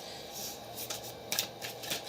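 Tarot cards shuffled by hand, a soft, quiet papery riffling with a few brief rustling flicks over a low background hiss.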